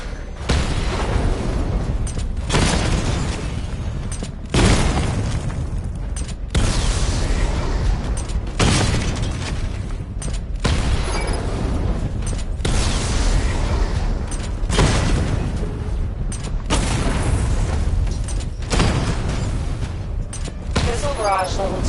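Repeated rocket-like explosions from a missile barrage in Batman Arkham Asylum come in regular bursts about every two seconds, each a loud boom with a hissing tail, while a narrator voice talks over them.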